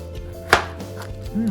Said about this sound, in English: Now it's time for us to cut the cookie